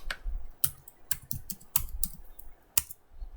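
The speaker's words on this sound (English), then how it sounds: "I'm going to type in the command lsblk" Someone types a command on a computer keyboard, producing a quick, irregular run of close, crisp key clicks with brief pauses between keystrokes.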